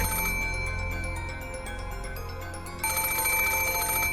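A telephone rings insistently with a continuous trilling bell, loud and steady throughout, over a low background of music.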